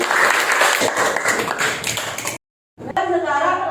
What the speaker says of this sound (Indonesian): Jadi berikan tepuk tangan pada Januari